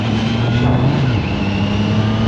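A Triumph Trident 660 three-cylinder motorcycle, restricted to A2 power, runs with a loud, steady engine drone that rises and falls slightly in pitch, heard close up with no talking.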